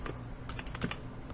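Keys on a computer keyboard are pressed during an Excel spreadsheet lesson, producing a few soft, close, quick clicks in quiet surroundings.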